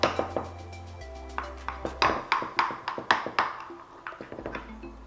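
A utensil cuts through baked pastitsio in a metal baking pan, giving a series of sharp clinks and scrapes at an uneven pace, close and clear, with no talking.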